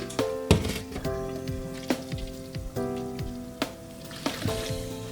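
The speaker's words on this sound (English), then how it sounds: "our sauce is beginning to splatter, so be very careful at this point not to splash on you" Thick jollof rice tomato sauce bubbles and splatters in a pot, with scattered sharp pops and spits over a steady low simmer and a faint background hum.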